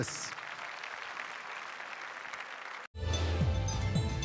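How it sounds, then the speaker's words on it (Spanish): A church congregation breaks into loud, sustained applause that fills the room after a brief pause, with faint talk and murmur audible underneath. "Aplaudan a Jesús."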